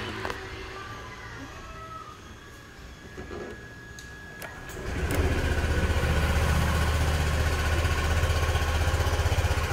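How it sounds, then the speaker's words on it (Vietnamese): A Honda Lead scooter engine is started after a few seconds of quiet background noise. It catches and settles into a steady, loud, even idle that lasts to the end. "Rồi, để em nổ máy cho anh em nghe ha."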